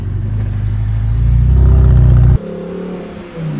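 Lamborghini Huracan STO and Ferrari 488 Pista launching side by side in a race, a loud close engine roar building steadily for about two seconds before dropping sharply into a quieter, lower drone.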